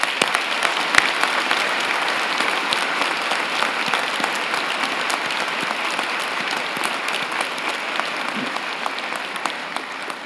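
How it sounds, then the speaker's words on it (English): A large convocation audience at a university graduation ceremony gives a steady, sustained round of applause for the graduates' friends and family; dense, even clapping fills the hall throughout with no talking. "join me and the platform party in thanking them with a vigorous round of applause"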